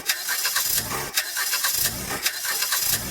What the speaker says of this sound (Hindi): इंजन हिला, गर्र गर्र की आवाज आई, पर स्टार्ट नहीं हुआ।